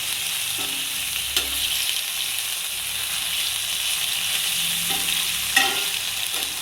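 Prawn ghee roast stirs in a pan, a steady close sizzle of frying with a few soft scrapes and taps of the spoon against the pan.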